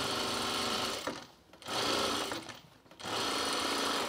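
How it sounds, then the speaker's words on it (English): A sewing machine stitches a bomber jacket sleeve at speed, running in loud, rapid bursts that stop briefly twice before starting again, heard up close with no voices. "so now we're gonna put the sleeve on. We're speed sewing now."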